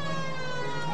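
Police car siren in the L.A. Noire video game, a loud, steady wailing tone with rich layered harmonics that holds throughout without pause, no talking over it.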